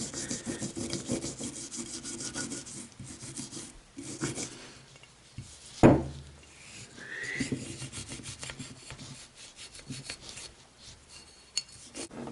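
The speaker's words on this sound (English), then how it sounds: "I'm going to use the brush and I'm just going to scrub all the carbon fouling and all that around" A brush scrubs carbon fouling off a 1911 pistol in close, irregular rasping strokes, with a sharp knock partway through and quieter scrubbing continuing after, no speech.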